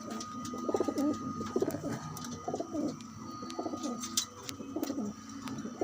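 Pigeons coo in low, repeated throaty phrases from close by, alongside a young pigeon, with faint rustling and a few sharp clicks in the background.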